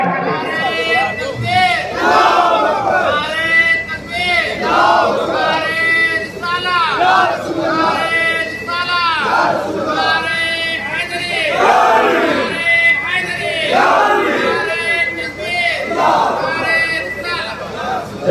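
A large crowd at an Urs gathering chants the slogan Naara-e-Haidari in repeated loud, rhythmic bursts of many voices. Each shout swells and falls over about eighteen seconds.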